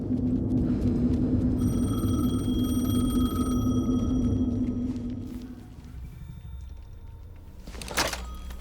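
A telephone rings in the video game Alan Wake 2 with a steady electronic trill that runs over a low ambient hum, then cuts off and leaves a quieter room tone with one sharp thud near the end.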